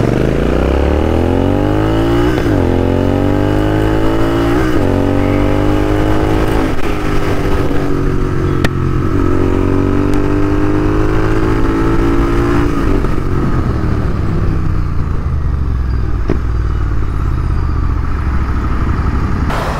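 A limited edition GT650 motorcycle engine runs loud and close, rising and falling through repeated rev sweeps as gears shift down during a ride, with continuous rumble and wind throughout.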